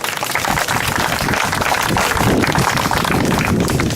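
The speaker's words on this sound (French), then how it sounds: "Vous pouvez applaudir José." Audience at a medieval festival street show claps steadily and loudly, a dense sustained wash of applause from a crowd close by.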